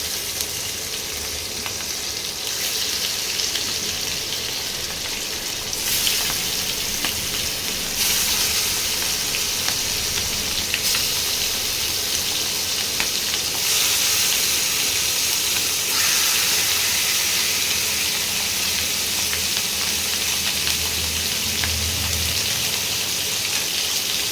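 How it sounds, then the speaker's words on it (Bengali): Chicken pieces marinated in turmeric, chilli, mustard oil and salt fry in hot oil, a loud continuous sizzle that swells and eases in waves over the stretch, with occasional faint stirring clinks and no voices. "এবার এই মাংসগুলোকে এর মধ্যে ভেজে নেব"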